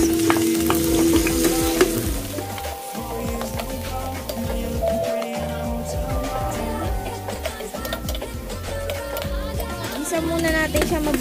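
Onions fry in a pan for milkfish sour soup with miso, a loud steady sizzle and stirring scrapes throughout, with a background melody running over it.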